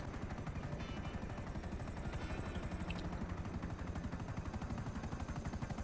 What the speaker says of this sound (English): Oh, that's a chopper.